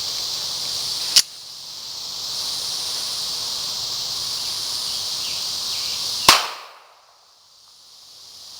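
Two sharp, loud shots from a .380 Colt Mustang Mk IV Series 80 pistol fired at a can, spaced about five seconds apart, each with a brief ringing tail, the second followed by near silence.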